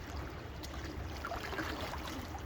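Gentle waves on the Ganga river make a soft, continuous wash of lapping water, steady and fairly faint with no voices.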